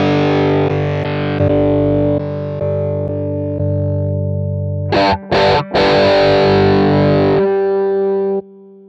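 An electric guitar played through a Sonic Cake Sonic IR impulse response loader rings out in loud, distorted chords. Sustained strums give way to a few quick, choppy hits, then a long ringing chord that stops abruptly near the end.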